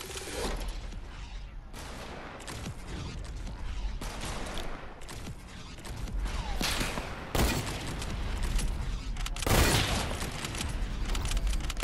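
Rapid gunfire in a Fortnite Creative custom game mode, with bursts of shots cracking out in quick succession and heavier booming blasts at intervals, loud and close throughout.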